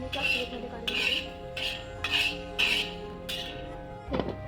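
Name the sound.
roasted cumin and mustard seeds transferred to plate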